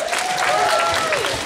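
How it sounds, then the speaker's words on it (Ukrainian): Audience applause fills a hall at the ZaGrai Fest 2017 festival ceremony, a steady, dense wash of clapping from a crowd that holds at an even level throughout. "Аплодисменти, друзі!"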